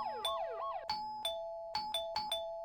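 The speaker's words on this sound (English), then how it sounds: "The car alarm outside was still going off." A loud video game car alarm cycles through rising whoops and then repeated sharp two-tone blasts, close and insistent, with no other sounds.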